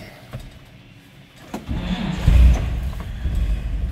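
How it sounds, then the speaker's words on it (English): A 1953 Chevrolet 3600 pickup engine is started with the clutch pressed, a short starter crank catching into a low, steady idle that stays fairly quiet and close. "It was push the clutch in and push the starter."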